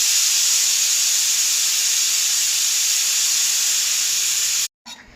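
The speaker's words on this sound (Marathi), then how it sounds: "ही भाजी आता कुकरमध्ये ठेवून 4 ते 5 शिट्ट्या काढून घ्या।" A pressure cooker holding amaranth-leaf greens vents steam in a loud, steady, high hiss that runs unbroken for several seconds close by, then cuts off abruptly.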